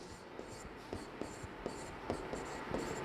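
A pen scratches across paper while a sentence is written, soft close strokes and taps in an irregular rhythm, faint and alone.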